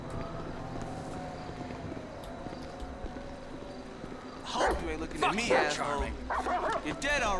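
A dog barks several times in the Grand Theft Auto V (GTA 5) video game, mixed with game sounds and voices after a stretch of busy background ambience.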